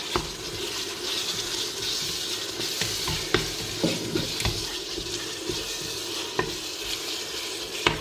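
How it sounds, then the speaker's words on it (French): Ras el hanout is stirred into frying chorba frik, a broad close sizzle with occasional spoon taps and scrapes against the pot, no voices. "je vais ajouter mon ras el hanout et mélanger rapidement"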